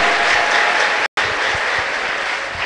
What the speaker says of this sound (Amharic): እስኪ ልልታና ጭብጨባ ለጌታ ስጡት።